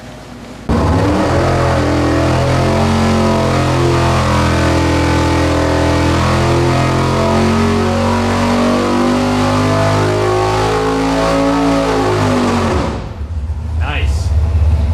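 A nitrous-fed 632 cubic-inch big block Chevy with dual Dominator carburetors roars through a dyno pull on the stand, starting abruptly and holding a loud, rising wide-open-throttle howl for about twelve seconds before cutting off sharply.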